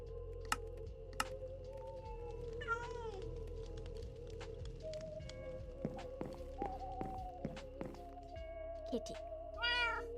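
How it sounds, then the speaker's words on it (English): Cat meows, several short separate calls scattered over a quiet game background with faint taps and footsteps. "Kitty."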